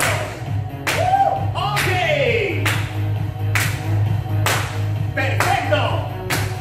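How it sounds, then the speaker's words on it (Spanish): Hands clap in a steady rhythm during an aerobic functional and dance class, about nine sharp claps spaced roughly evenly over music, with an instructor talking between them. "Aplaude con tus manos."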